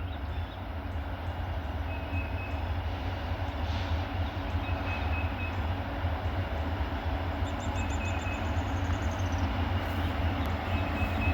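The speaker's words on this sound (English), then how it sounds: "Looks like brand new paint on that locomotive. Is it one of those SD70s or what?" Train pulled by an SD70 locomotive in fresh paint passing close by: a steady, heavy rumble with rolling wheel noise holds evenly throughout, and there is no talk.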